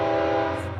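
Train horn sounding through downtown Davenport, a loud steady chord of sustained tones held close and unbroken over a low rumble, with no talk.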